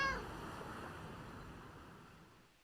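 A short cat meow in a video game opens the clip, then fades into a soft, steady ambient wash with no talking.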